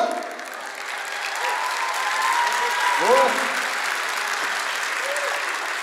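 An audience claps at a Kazakh stand-up comedy concert, with sustained applause rising and falling slightly and voices calling out over it.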